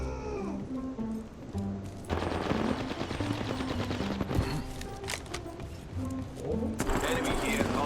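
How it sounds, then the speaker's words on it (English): Rapid gunfire from the Apex Legends battle royale shooter rattles through a busy game mix, with dense bursts of shots and game sounds running steadily across the whole stretch while voice lines play. "Opening fire."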